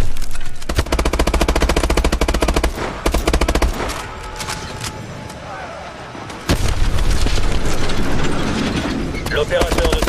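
Loud, dense gunfire in the Advanced Warfare video game campaign, with rapid machine-gun bursts and heavy blasts that briefly drop away and then resume at full intensity, with faint voices underneath.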